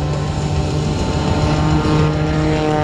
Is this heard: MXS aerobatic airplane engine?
yes